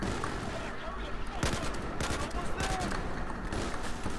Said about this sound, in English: I'm fucking shooting and I'm fucking missing.